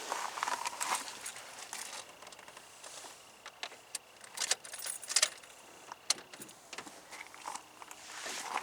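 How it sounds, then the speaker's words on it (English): A car key slides into the ignition of a Honda Civic, with light metallic jingling and clicks of the keyring up close, faint interior background and no talking. "what I'm going to do now is just put the key in the ignition"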